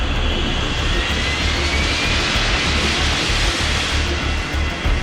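Airplane engines roar steadily as the throttles are pushed up during an aborted landing approach at Madeira, a loud, continuous broadband rush heard from inside the cabin.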